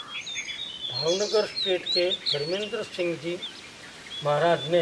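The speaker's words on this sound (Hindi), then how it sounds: "आप पक्षियों की आवाज़ सुन सकते होंगे यहाँ।" Wild birds in Saurashtra, India chirp and twitter high in the background, scattered calls continuing under someone talking close by.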